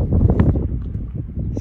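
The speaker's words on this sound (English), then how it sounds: "It's really windy out here today." Strong wind buffets the microphone in continuous low roaring gusts, with faint rustling underneath and no talking.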